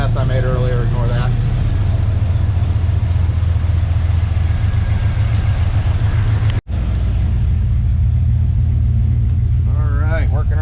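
A swapped-in 6.2 V8 idles in a 2007-13 Chevrolet Silverado with a steady, loud, even low rumble, while a voice speaks briefly at the start and end.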